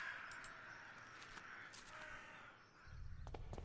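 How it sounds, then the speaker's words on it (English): Crows caw in a video game, several sharp calls scattered over a quiet ambient background, fairly faint, with a low thump near the end. "There's the sound of the birds."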